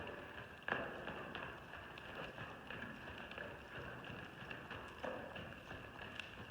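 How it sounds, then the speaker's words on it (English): Horse trotting while its rider posts up and down in the saddle, a faint steady clip-clop of hooves in a quiet outdoor setting. "So you will notice right now Julie is moving up and down in her saddle."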